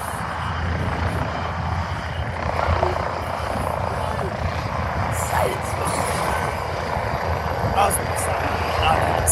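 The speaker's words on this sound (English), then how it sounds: "This is ambulance helicopter." An air ambulance helicopter at a twilight charity 5K event approaches with a steady, loud rotor and engine drone that swells slightly, while people chat nearby outdoors.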